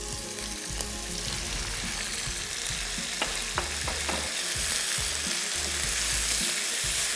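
Beef mince frying with browned onion and garlic, stir-roasted in a pan: a steady close sizzle with scraping stirs running throughout, and no talking.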